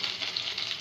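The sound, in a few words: curry leaves sizzling in hot oil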